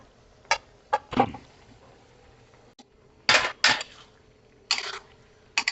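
Pav bhaji vegetables stirred in a metal pan, a series of sharp scraping clanks from a spoon against the pan, spaced irregularly with quiet gaps between them.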